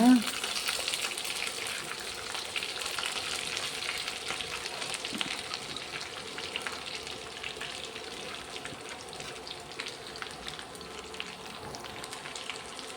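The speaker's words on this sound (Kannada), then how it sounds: "ಈಗ ಎಲ್ಸಂಡೆ ಕಟ್ ಮಾಡಿರೋ ಎಲ್ಸಂಡೆ ಮತ್ತು ಈರುಳ್ಳಿ ಹಸಿಮೆಣಸಿನಕಾಯಿ ಎಲ್ಲ ಹಾಕೋಣ" Cowpeas, chopped onion and green chillies sizzle steadily in a hot pan, a continuous close frying hiss with faint stirring throughout, no talk.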